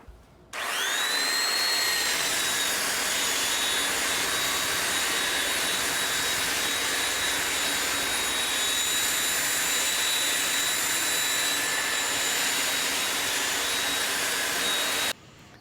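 A belt sander runs on an exterior wooden floor being refinished, a loud steady whining roar that starts abruptly and holds without letup for about fifteen seconds before cutting off.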